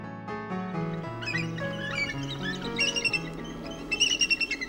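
A bald eagle in Alaska calls in a series of high, thin, chittering whistles that grow louder and more frequent, heard over a low tonal backing.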